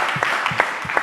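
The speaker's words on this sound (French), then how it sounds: "On peut applaudir le ministre qui est avec nous" An audience at a corporate business event applauds a French government minister with a short burst of claps that come in a loose, pulsing rhythm.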